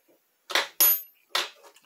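A worn metal dreadnought file is picked up and handled, producing three short, close scraping clanks separated by silence.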